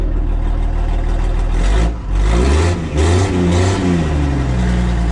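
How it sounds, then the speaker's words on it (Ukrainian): A loud Mercedes 814 truck's OM-366 diesel engine rumbles close by, revving up twice in deep surges before settling back toward idle. "зараз дам газку, послухаєте"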